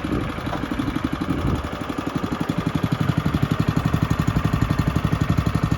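A HydroHog hydroseeder's gas engine, pull-cord started with partial choke near half throttle, settles into a steady, close, rhythmic chugging that grows slightly louder and more regular over several seconds.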